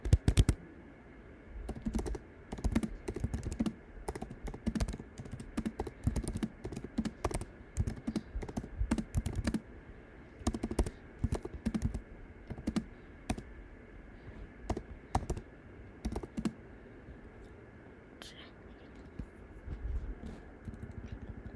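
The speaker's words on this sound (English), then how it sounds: "So I'm gonna just really quick type this." Rapid bursts of typing on a computer keyboard while building a Gimkit game map, clustered clicks in uneven runs with brief pauses, close and steady, no talking.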